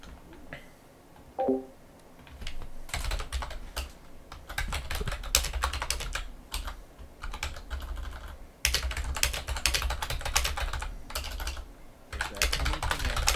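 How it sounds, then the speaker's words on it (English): Steady typing on a computer keyboard, dense runs of quick clicks with brief pauses, fairly close and alone with no talk. "I was just typing away"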